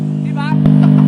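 A car engine revs hard against its rev limiter, the rpm climbing and stuttering in a steady tone that is loud and close, with a voice speaking over it.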